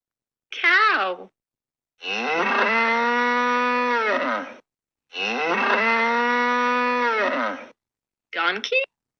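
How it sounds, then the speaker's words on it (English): Cow on a farm lowing in two long, loud, drawn-out moos, each lasting a couple of seconds, with brief shorter calls at the start and end, heard alone with nothing else around. "cow,"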